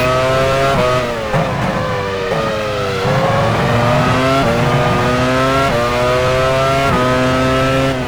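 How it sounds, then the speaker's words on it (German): A Formula 1 car from the 2000 season in the game F1 Challenge 99-02 at the Hungaroring pulls into the pit lane, its loud, close, high-pitched engine whine repeatedly rising and falling as the car shifts gears and slows. "Pedro de la Rosa fährt an die Box."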